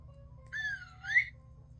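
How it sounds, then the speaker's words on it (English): In a Christmas sound book, a short electronic whistle sound effect rises and wavers for under a second over a low buzzing hum, clean and close. "to his team gave a whistle"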